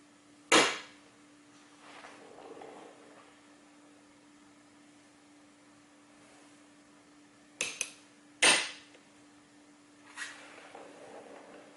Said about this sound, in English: I can use a center punch to make sure that my drill bit stays centered.